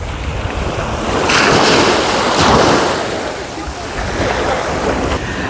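Sea waves breaking on Lanzheron beach in the early morning, a loud continuous wash of surf with two stronger surges and heavy wind buffeting the microphone.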